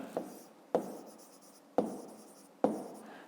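Numbers being written by hand for a fifth-grade math exercise: four short, crisp pen strokes scratch across paper at uneven intervals, quiet and close, with nothing else around them.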